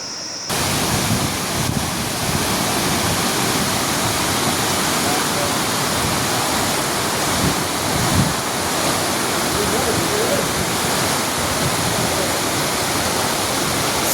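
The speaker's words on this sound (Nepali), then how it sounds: "वाउ सुन्दर झर्ना" A mountain waterfall near a village trail roars in a loud, constant broadband rush that stays even from start to finish, with a faint voice and some wind buffeting barely audible beneath it.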